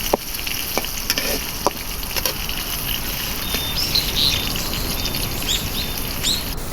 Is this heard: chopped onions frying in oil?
yes